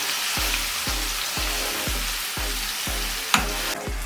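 Fish sizzling and frying in a hot pan, a steady close crackle broken by a series of regular low thumps, with one sharp clatter near the end and no talk.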